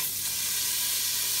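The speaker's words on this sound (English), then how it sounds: "to my hot pan, I'm going to add the 1/2 pound of chopped bacon" Half a pound of chopped bacon sizzles in a hot pan, a steady, loud, close frying hiss that continues evenly throughout with no voices.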